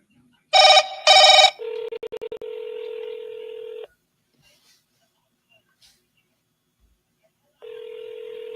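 Telephone keypad tones dialing a seller's number, a quick burst of beeps followed by a steady ringback tone that stops and then resumes after a gap of near silence.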